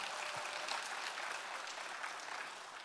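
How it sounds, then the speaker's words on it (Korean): A church congregation claps together during a Friday service, a steady wash of many hands applauding at moderate distance, even and sustained throughout without a clear peak. "다시 한 번 더 박수로 하나님께 영광 돌리겠습니다."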